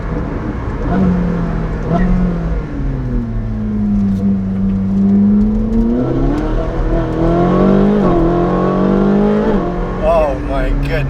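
Ferrari 458 Speciale with a naturally aspirated engine and Novitec exhaust, loud close revs rising and falling in pitch, several sweeping climbs and drops, heard alone without talk.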